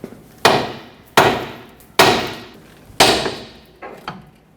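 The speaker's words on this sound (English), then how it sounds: "hit this with a hammer and pry down at the same time with a pry bar" A hammer strikes an aluminum lower control arm on a 2006-2010 Hyundai Sonata to break it free, five sharp close blows at roughly even intervals, each ringing briefly before fading, with the last one softer.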